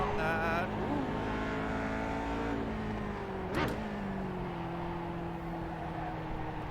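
A car lapping the Nürburgring drones steadily from inside the cabin, engine note rising and falling through gear changes with a brief sharp noise partway, continuous and fairly quiet.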